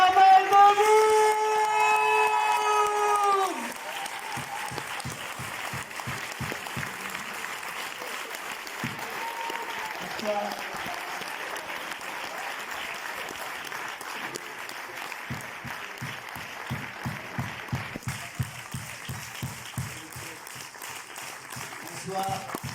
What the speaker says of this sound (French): Je vous demande un tonnerre d'applaudissements pour Monsieur James Hunt, le réalisateur